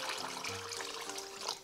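Water sloshes and trickles steadily as soaked rice and lentils are rinsed in a bowl, a continuous close wet swishing with no voices.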